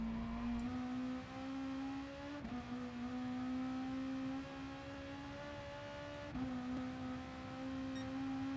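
A car accelerating hard around the Nurburgring in Gran Turismo Sport, its steady engine tone climbing in pitch through the gears, with two short dips at gear shifts, loud and continuous throughout.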